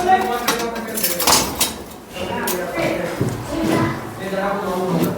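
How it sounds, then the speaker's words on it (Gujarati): A metal spoon clinks against a glass beaker as sugar crystals are added. Several sharp taps and scrapes are heard close up, with a person talking over them. "ચલો આપણે બીકરની અંદર ખાંડ નાખીશું"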